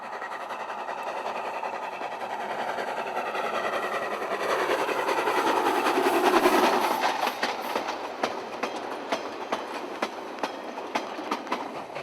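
A goods train passes on a wet West Coast line, a rising rumble that peaks mid-pass before giving way to a string of sharp clickety-clack wheel beats as the wagons roll by, with no voices.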